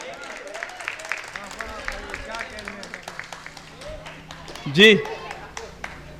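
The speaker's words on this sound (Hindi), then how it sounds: "तालियां बजाइए।" Scattered clapping from the audience at a Hindi-Urdu mushaira, light and uneven under a poet's speaking voice, with a brief loud vocal burst near the end.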